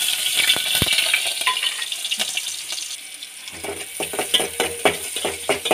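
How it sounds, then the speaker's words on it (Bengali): Green chilies and onions fry in hot oil in a pan, a close sizzle mixed with metallic clinks and scraping from stirring, growing busier in the second half. "কাঁচা লঙ্কা পেঁয়াজ ভালো করে লাল করে নেব।"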